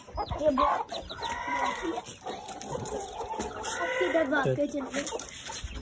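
A hen clucks near a brood of chicks, with repeated clucks and bird calls running throughout at close range, mixed with voices talking.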